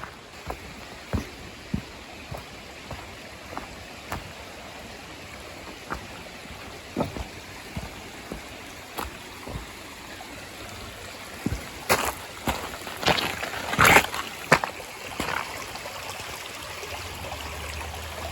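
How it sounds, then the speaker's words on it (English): Soft, steady trickle of a small creek, with scattered brief knocks and a cluster of sharper splashy sounds near the end. "A little bit of a creek out there. It's not flowing very strongly now."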